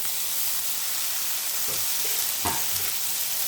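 Chopped tomatoes and onions with curry leaves sauté in hot oil for a South Indian fenugreek gravy, giving a continuous soft sizzle with a couple of brief scraping stirs near the end.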